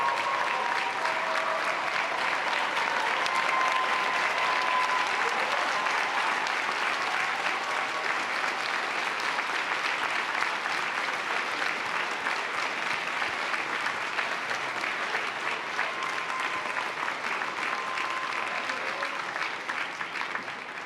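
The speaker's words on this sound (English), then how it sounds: "Will all of the parents, spouses, children, and friends of our graduates please rise for their own well-deserved round of applause?" At a Thomas Jefferson University commencement ceremony, a large audience gives sustained applause for graduates' parents, spouses, children and friends, a dense even roar of clapping that holds for about twenty seconds and tapers slightly at the end.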